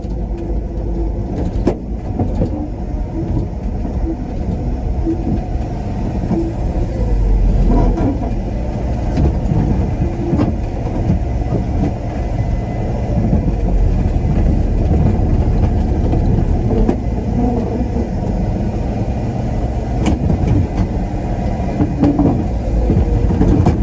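A 1971 Ford F100 pickup truck driving around a yard, heard from inside as a loud, continuous low engine drone and rumble with occasional knocks and jolts.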